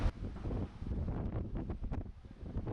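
Wind buffets the microphone in low, rumbling gusts at sunrise in Bimini, Bahamas, loud and close, with no voices.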